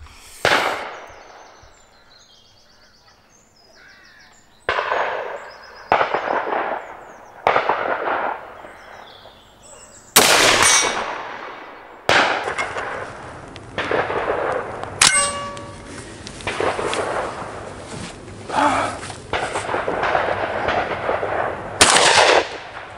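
Rapid gunfire at an outdoor range, loud sharp reports arriving in bursts with several separate shots, some followed by bright metallic clangs as rounds strike a steel gong target.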